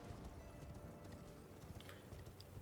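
Horse hooves galloping in the video game Elden Ring, a quiet, rapid clip-clop running steadily beneath a soft wash of background sound.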